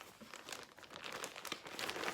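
Plastic project bag holding cross stitch work crinkles and rustles steadily at close range, with no voice over it.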